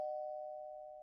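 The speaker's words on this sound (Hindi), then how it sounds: "अगले दिन सुबह दरवाजे की घंटी बजती है।" Doorbell giving a single sustained electronic chime that rings steadily and slowly fades, clear and alone with no voices.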